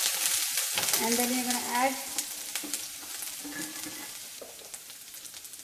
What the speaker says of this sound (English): We're just gonna fry a little bit,